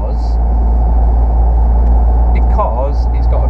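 A loud two-seat sports car with a big engine drones steadily from the cabin as it drives along, a continuous low rumble under people talking.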